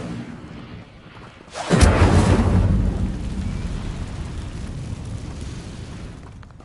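A fire spell is cast in Hogwarts Legacy, heard as a sudden loud whooshing burst of flame that swells and then slowly rumbles away into a crackling fade.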